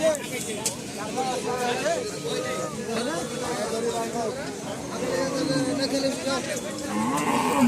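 Cattle moo and low repeatedly amid a busy crowd at a cattle market, with people chattering and talking nearby throughout.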